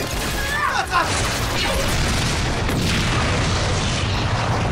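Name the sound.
bomb exploding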